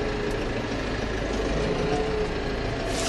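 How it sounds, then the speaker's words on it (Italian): A Case IH Farmall 95 U Pro tractor engine idling, a steady low diesel rumble that stays even and unbroken throughout, close and fairly loud with no voices. "Motore anche al minimo non ha problemi."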